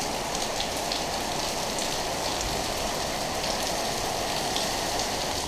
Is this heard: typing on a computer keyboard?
no